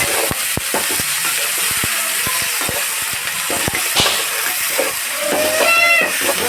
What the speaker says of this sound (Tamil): நல்லா வதக்கிட்ட அப்புறம் இப்போ காளான் ஆட் பண்ணிக்கலாம்.